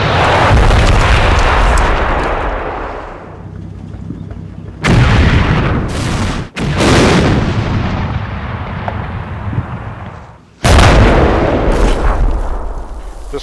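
Artillery shells from a barrage in the Combat Mission war game land in loud, heavy booms, with three sharp blasts breaking in over a rumbling, roaring background.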